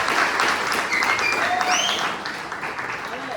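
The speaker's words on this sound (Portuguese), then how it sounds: "Por favor, uma salva de palmas aí" Audience applause at a presentation, a dense, steady crowd clapping with scattered whoops and cheers over it, easing slightly toward the end.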